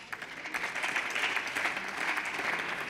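Applause in the Austrian National Council during a special parliamentary session, a steady broadband patter of clapping hands sustained for the whole stretch at moderate level, no voices over it.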